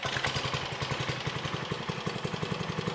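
The engine of an Ariens 624 snow blower runs after a pull start with a close, rapid, even putter that chugs steadily at half throttle.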